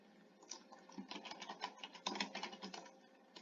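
Quiet, quick clicking on a computer keyboard as a formula is typed into an Excel spreadsheet, a run of light keystrokes ending with a press of the enter key.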